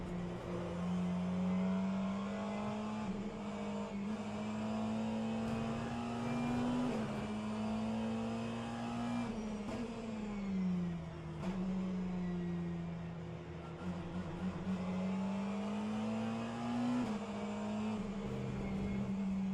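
A McLaren racing car engine in a racing video game revs high and steady in fifth gear with a droning, wavering pitch that bounces near its limit as the sound sample runs out, loud and continuous with no talking.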